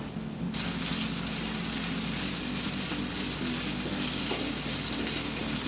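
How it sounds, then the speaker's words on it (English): Pork pepper roast, Kerala style, slow cooking in a pan: a loud, steady, dense sizzle that holds without a break throughout. "let the pork slow cook."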